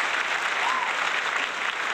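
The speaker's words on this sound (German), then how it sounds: "ein Applaus für euch" Steady applause from a crowd, dense clapping that holds evenly from start to finish with no pauses.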